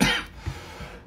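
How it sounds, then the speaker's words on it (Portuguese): A person coughs once sharply and close by at the start, then makes two softer throat-clearing sounds. Nobody talks. "Já avisei, já alinhei essa coisa da tosse no começo."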